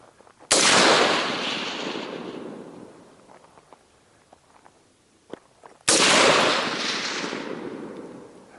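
Two loud rifle shots fired at a long-range target on an outdoor shooting course, each a sharp crack followed by a long rolling echo, spaced about five seconds apart with faint clicks between and no talking.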